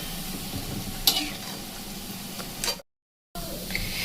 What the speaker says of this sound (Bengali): ঠিক এইরকমভাবে তেলটাকে নড়িয়ে মানে যদি নাড়িয়ে দেওয়া যায় খুব ভালো হয়